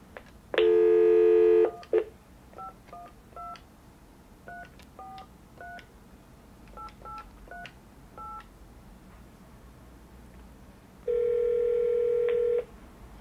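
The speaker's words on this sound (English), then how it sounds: "Oh, it's ringing." A telephone line plays a tone, then a run of touch-tone dialing beeps in quick pairs, followed by another long steady ringback tone, all clear and close with no talking.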